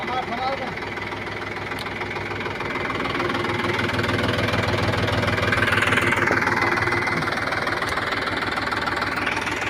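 A tractor engine runs steadily with a knocking, rumbling idle that swells slightly louder midway, close and continuous with no break, during a village Holi celebration.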